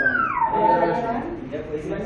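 Dogs held at an animal birth control centre whimper and whine, a drawn-out falling cry with short yips, while voices talk in the background.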